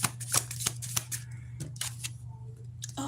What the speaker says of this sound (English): I shuffled. When I pulled the cards out, it was here.